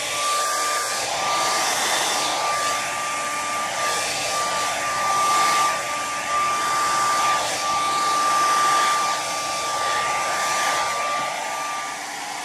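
A hair dryer blows steadily and loudly over acrylic paint pouring, a constant whooshing roar with a faint high whine and no voices.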